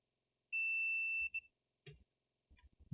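A multimeter in continuity mode gives one steady electronic beep lasting under a second while probing a circuit board, followed by a few faint clicks and handling noises.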